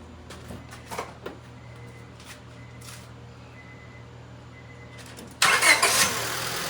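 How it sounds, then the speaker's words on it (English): A car engine cranks and fires up in a workshop, breaking in loud and close after a few seconds of quiet clicks and shuffling, then settling into a rough idle. "go ahead and start the car."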